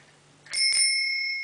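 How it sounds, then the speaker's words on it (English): A clear-plastic bicycle bell gives a single bright ring up close, its metallic tone hanging and slowly fading after a quiet moment. "A clear color bicycle bell."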